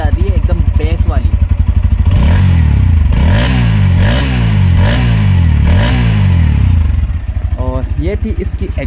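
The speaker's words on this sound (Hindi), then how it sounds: "ये थी इसकी एग्जॉस्ट साउंड।" A Bajaj Pulsar NS160 motorcycle with an underbelly exhaust idles with a deep, bassy pulse, then revs loudly in four or five rising blips before settling back to a steady close idle.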